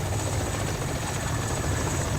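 Helicopter flying in ArmA: Cold War Rearmed, a steady, loud rotor-and-engine drone that holds unbroken throughout with no voices over it.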